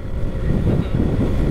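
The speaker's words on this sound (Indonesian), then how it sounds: "windy, angin ya, berangin ya, yo." Strong wind buffets the microphone in a continuous low rumble, loud and close, with no voices, while riding a Suzuki Address scooter along a southern coastal beach road.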